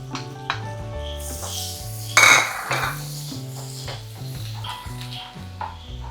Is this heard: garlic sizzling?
yes